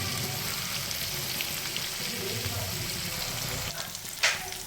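Prawns fry in a pan with a steady, close sizzle and crackle that runs throughout, with a brief stir or scrape near the end.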